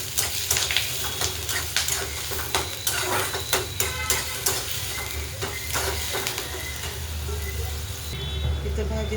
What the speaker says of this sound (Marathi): कढीपत्ता आणि कांदा टाकून घेऊया.